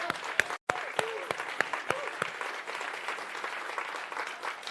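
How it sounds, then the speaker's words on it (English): An audience gives a round of applause at a women's pitch competition, a dense, steady clapping that carries through the whole stretch, with a few sharper individual claps near the start and no speech over it. "So everyone, one last round of applause."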